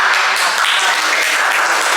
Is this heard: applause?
yes